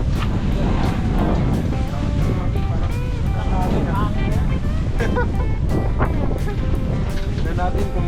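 Strong wind buffets the microphone by the sea, a loud, rough roar with surf and water noise beneath, while people talk intermittently over it.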